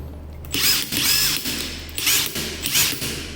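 A Makita DTW300 cordless impact wrench running in short bursts, several loud close whirring runs with brief pauses, switched between forward and reverse, with no talk.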